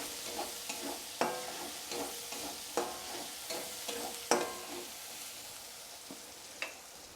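Mixed vegetables with turmeric and chili powder are stirred in a pan: a spatula scrapes in irregular strokes with a few sharper knocks, over a soft steady sizzle. No one speaks.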